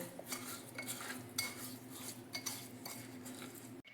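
Red chilli pickle masala is mixed inside a jar, producing soft, irregular clinks and scrapes of a utensil against the container, faint and close, ending in a sharp knock.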